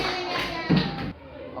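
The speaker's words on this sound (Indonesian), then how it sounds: "Silakan tepuk tangan." A short burst of applause from a classroom of students, a brief patter of hand claps with a little voice noise around it, close and moderately loud.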